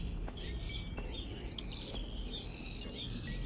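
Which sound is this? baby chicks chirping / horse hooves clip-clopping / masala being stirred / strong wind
baby chicks chirping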